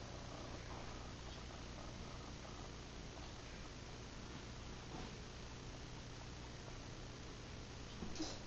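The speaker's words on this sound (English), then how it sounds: "Where's the kitty cat? Yeah, that's the kitty cat." A house cat purrs steadily and continuously up close, a soft rumbling drone under faint hiss with no voices.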